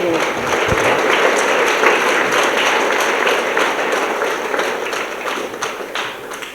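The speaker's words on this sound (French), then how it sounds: "Et sous vos applaudissements." Sustained crowd applause for a youth choir at a religious gathering, steady dense clapping filling the whole stretch with a faint murmur underneath, slowly easing toward the end.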